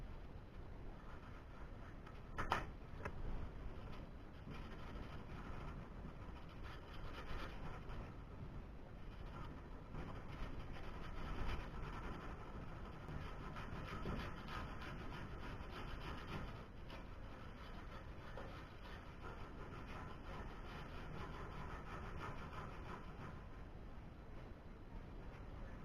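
Block sanding of body filler on a car quarter panel patch, a long continuous scratchy rubbing stroke after stroke at steady moderate level, close and alone without talk.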